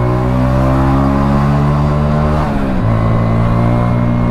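Hero Splendor Plus motorcycle with a modified clutch plate, engine droning loud and close in second gear, steady harmonic hum that dips briefly mid-clip and then settles at a slightly lower pitch, no talk.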